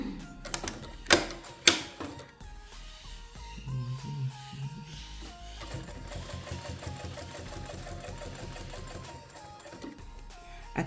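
A sewing machine stitches bias binding onto fabric for a document holder, running in a steady close whirring hum after a few sharp knocks and clunks at the start, with no voices.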